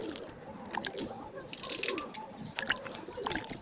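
Water trickles and drips as cut mangoes and chillies are rinsed, faint and close, in a soft uneven pattern with a few brighter splashes.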